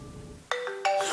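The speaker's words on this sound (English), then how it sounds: "Sorry, that was my phone." A phone ringtone breaks in suddenly after a quiet moment, playing two loud, bright electronic tone bursts in quick succession, close and clear.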